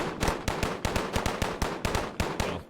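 Rapid gunfire during an Arma 3 military training session, about fifteen sharp close shots in a steady rhythm of roughly five per second, loud and alone without talking.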